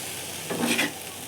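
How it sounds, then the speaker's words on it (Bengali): Prawns frying in a pan with turmeric, a steady soft sizzle with one brief swell of stirring and spattering in the middle, no voices. "এবার হচ্ছে তেঁতুল জল করে হলুদ টলুদ দিয়ে আর একটু ভেজে নেব।"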